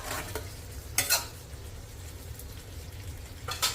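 A spoon gently stirs cauliflower and potato curry in a pan over a soft steady sizzle, with a few quick scraping strokes against the pan. The sound is quiet and close.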